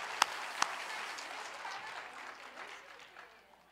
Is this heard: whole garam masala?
no